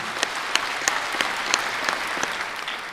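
Audience applause at an Atomy achievement and promotion event, thanking a diamond master in the hall; dense, steady clapping from a crowd for about three seconds, with no talking.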